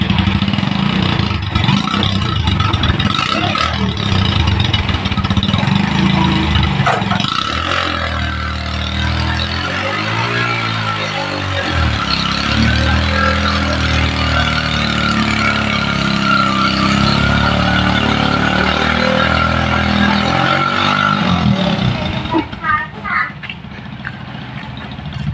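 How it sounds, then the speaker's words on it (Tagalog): A tricycle motorcycle engine revs hard and close, rising and holding a strong, steady roar for most of the clip before easing off near the end, with no talk over it. "Kita nyo na, naipakita ko na sa inyo kung gaano kalakas tong motor na to."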